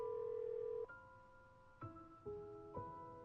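Telephone call tones while phoning Daphne: a sustained tone that breaks into a series of electronic beeps and steps, fairly quiet, with no talking.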